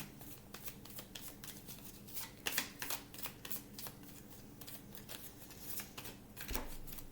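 Tarot cards shuffled by hand make soft, quick riffling and flicking bursts, close but quiet, in an irregular rhythm with no speech.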